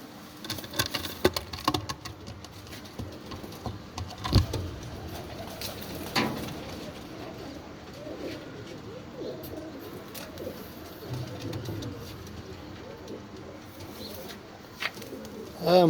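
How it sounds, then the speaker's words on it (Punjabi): A pure French pigeon coos softly at intervals against a quiet background, with a few faint patters and light handling noises around it. "ਇਹ ਜੀ ਫਰਾਂਸਾ ਕਬੂਤਰ ਹੈ ਜੀ,"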